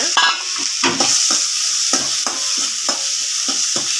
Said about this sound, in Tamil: மூணு பச்சை மிளகா ஆட் பண்ணியிருக்கிறேன் ஃப்ரை பண்ணிக்கோங்க